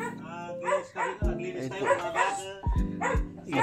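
On a mango and rice farm a dog barks and yips a few times in short bursts at close range, mixed under steady talking.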